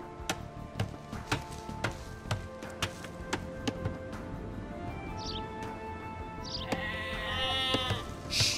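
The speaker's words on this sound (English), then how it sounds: "You've found some sheep." Sheep in Age of Empires II bleat a few times, faint and wavering, over a steady ticking beat and a soft, busy background hum.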